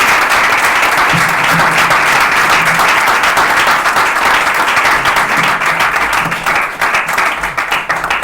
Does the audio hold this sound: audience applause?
yes